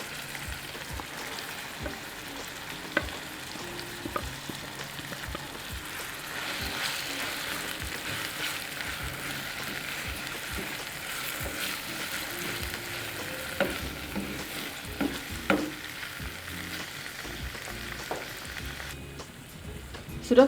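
Grated potatoes frying in a pan as they are stirred, a soft steady sizzle with scattered scraping clicks from the utensil, faint and continuous with no talking.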